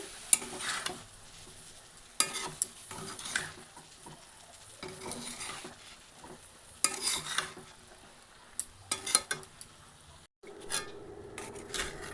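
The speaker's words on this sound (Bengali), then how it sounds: "এটাকে একটু নেড়ে চেড়ে নিয়েছি" Drained broken wheat (dalia) being stirred in a cooking pan, soft scraping and rubbing strokes in irregular bursts with faint sizzling between them, close and quiet, no talking.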